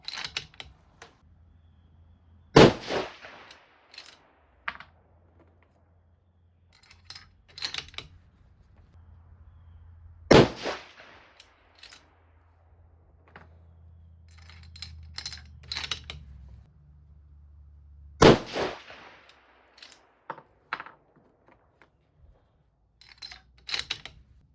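A 6.5 PRC rifle firing 140-grain Berger bullets at the range, three sharp, loud shots spaced several seconds apart, each followed by a brief decay, with small handling clicks and mechanical noises between them.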